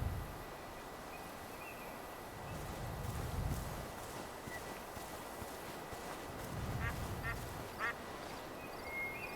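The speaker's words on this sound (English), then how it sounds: "Where are you, Mr. Duck?" A duck quacks in the hunting video game Way of the Hunter 2, a few faint nasal quacks in a cluster late on, over a steady outdoor ambience with rustling footsteps.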